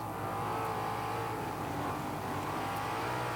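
Sprint cars racing at speed during the feature at the Knoxville Nationals on a dirt oval track, a steady loud engine roar filling the whole stretch without letup and no talk over it.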